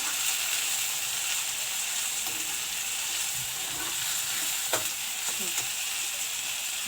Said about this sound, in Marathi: आता आपण अद्रक आणि लसूणची पेस्ट टाकून घेऊ.